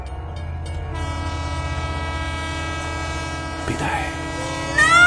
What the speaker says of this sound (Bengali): কিছুক্ষণ পরেই আন্তনগরের ট্রেনটা আসবে